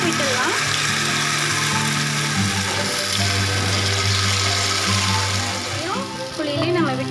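Paniyaram batter fries in oil in the cups of a paniyaram pan, giving a dense, loud, continuous crackling sizzle close by with some tonal background underneath.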